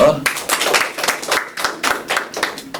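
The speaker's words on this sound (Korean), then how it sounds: "박수 한번 주세요." A crowd claps with rapid, uneven clapping that stays steady throughout, while a voice speaks over it at the start.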